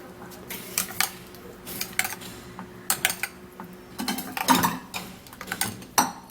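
An onion and baking soda mixture being stirred in a bowl, repeated clinking and scraping of a spoon against the container in irregular bursts, close and fairly loud.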